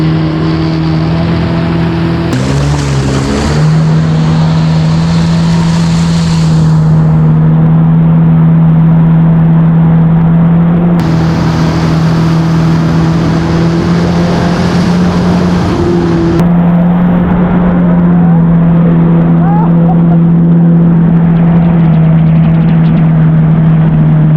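A 2020 Yamaha WaveRunner FX Cruiser HO jet ski engine runs loud and close throughout, a steady droning whine that surges twice as the throttle is opened, with rushing water beneath.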